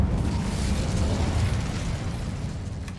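Incendio fire spell cast in Hogwarts Legacy, a loud continuous roaring whoosh of flame filling the whole moment at even intensity.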